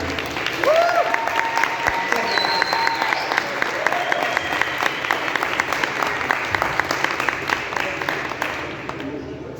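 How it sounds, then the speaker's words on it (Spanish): An audience at a science talk in a bar welcomes the speaker with loud, continuous applause, with cheers and whistles over the clapping early on before it thins toward the end. "Le damos un fuerte aplauso por favor a Paul."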